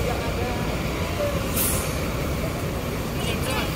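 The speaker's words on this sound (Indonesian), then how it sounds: "Nah ini Berlian Jaya juga baru masuk ya, bodinya jet bus 3." A Berlian Jaya coach with a Jetbus 3 body rolls into a bus terminal car park at night. A steady rumbling idle sits under a brief airy brake hiss, with people talking over it throughout.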